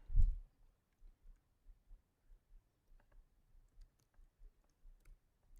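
Soft, quiet clicks of typing on a computer keyboard, an irregular patter of keystrokes after a single louder thump at the start.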